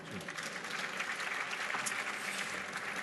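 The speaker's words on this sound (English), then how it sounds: "Round of applause." Conference audience at MoneyConf 2017 applauding a pitch finalist on stage, a dense, steady wash of many hands clapping that holds at an even level throughout with no voices over it.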